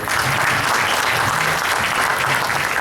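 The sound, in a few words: audience applause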